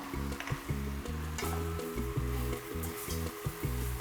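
Sautéed vegetables sizzle in a pan with sweet paprika while a utensil stirs them, a steady frying hiss with rhythmic low scraping strokes, close and continuous.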